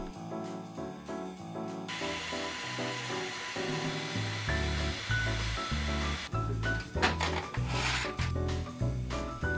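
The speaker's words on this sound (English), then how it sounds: "Line up the wood with the laser point and click start." A Creality Falcon2 laser engraver works on a wooden board, its motors giving off a series of stepped, shifting whirring tones with a faint scratchy rasp underneath.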